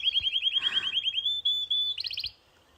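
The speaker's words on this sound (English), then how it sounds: "I think it's a canary." Canary singing in a forest setting, a rapid run of bright repeated trilled notes, then a sustained whistle and a final burst of quick chirps, loud and close, with no talk.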